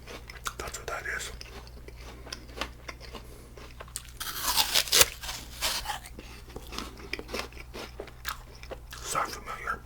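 Close, crisp bites and crunchy chewing of an apple, with a louder burst of crunching near the middle and soft whispering throughout.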